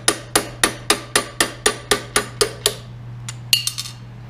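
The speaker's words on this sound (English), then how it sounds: "a pin we got to knock out. Hammer and a punch" A steady series of about ten sharp metallic hammer strikes on a punch, knocking out a pin while repairing a KitchenAid mixer worm gear, evenly spaced, then a pause and a quicker cluster of lighter taps.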